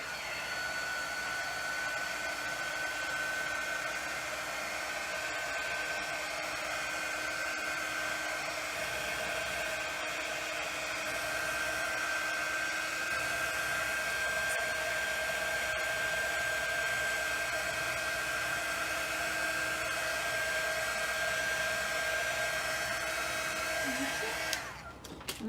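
A hair dryer blowing steadily on a freshly painted ornament, a constant close whir with a high tonal whine that runs unbroken for about twenty-five seconds and ends with a short clunk.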